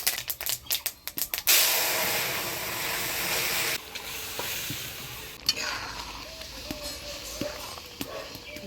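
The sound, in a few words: boiled lentils poured into sizzling tempering, mango dal cooking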